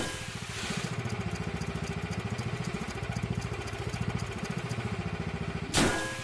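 A spanner wrench repairs a ship component in the airship game Guns of Icarus, giving a steady, fast mechanical rattle with a rhythmic pulsing chug that loops on evenly, capped by a sharp clank near the end.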